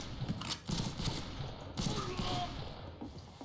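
Revolver fanned and fired in rapid succession in the Wild West shooter Fistful of Frags, a burst of sharp, close shots at around 0.1 s and again near 1.8 s, with a tail of echoing reports.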